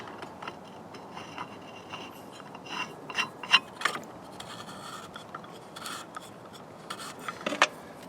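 Blade retainers being fitted and tightened on a tile saw, giving scattered small metallic clicks, ratcheting and rubbing sounds at close range, in irregular bursts over a quiet background.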